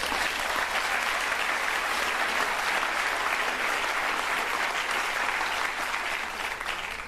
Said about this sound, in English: the governor deserves a round of applause for that